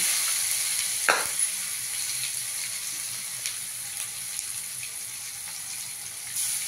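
Curry leaves, chilli and asafoetida sizzle in hot oil for a cauliflower and potato dish, giving a soft, even hiss with a sharp spatter burst near the start and a few faint clicks of stirring later.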